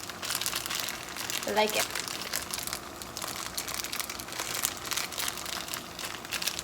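Crinkling plastic packaging of bay leaves being opened in a kitchen, soft intermittent rustles and crackles close by while a person speaks quietly.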